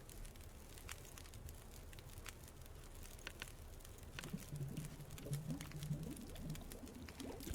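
Water bubbling in a pot over a campfire in the survival game The Long Dark, a soft low patter of boiling that grows busier in the second half, heard alone against a steady crackling fire backdrop.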